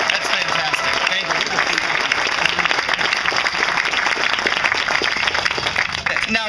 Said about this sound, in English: If we can just do one more round of applause for everybody up here.